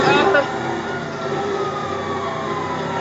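A police siren wails in the GTA Online video game during a chase, heard loud and steady under a droning engine, with a sharp burst at the start and voices talking over it.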